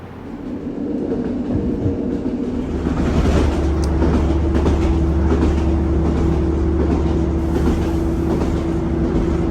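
A train rumbles steadily across the Royal Albert Bridge with a low roar and rhythmic clattering of wheels, building in loudness and staying close and continuous.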